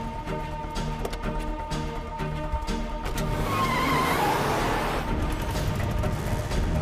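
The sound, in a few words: auto rickshaw driving away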